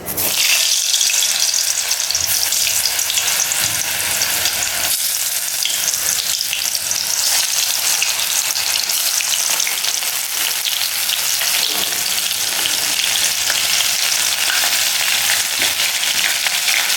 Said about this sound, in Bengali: তো তেলটা গরম হয়ে গেছে। এবার আমি বড়াগুলো দিয়ে দিচ্ছি।